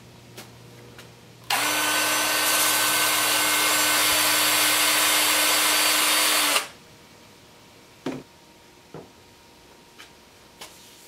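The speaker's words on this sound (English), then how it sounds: "I'm going to take it over here on the workbench and just sand that little part up in the middle" A power sander runs steadily for about five seconds on a yew wood bowl at a workbench, loud and continuous, then cuts off, followed by a few light knocks and taps.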